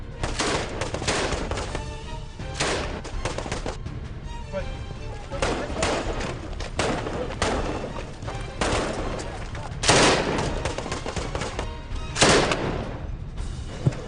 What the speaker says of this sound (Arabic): وأثناء العمل بيفاجئنا إطلاق نار كتير قريب